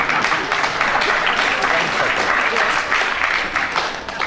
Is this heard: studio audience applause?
yes